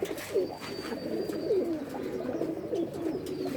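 Brown-necked male pigeons coo in a steady series of low, rolling calls at moderate volume, repeating every second or so over faint background noise.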